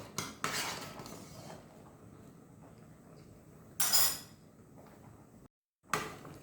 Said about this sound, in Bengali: কিছুক্ষণ পর পর এসে এভাবে নেড়ে দিতে হবে